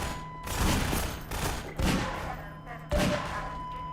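A hand cannon revolver fires in the video game Half-Life 2: four heavy, booming shots spaced roughly a second apart, each with a short echoing tail.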